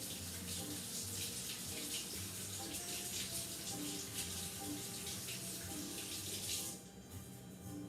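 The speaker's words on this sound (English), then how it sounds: "So one of the first things I'm going to do, wash my hands." Tap water runs steadily from a faucet as hands are washed in a kitchen sink while preparing wild mushroom pasta, a continuous close rushing hiss that drops off abruptly near the end.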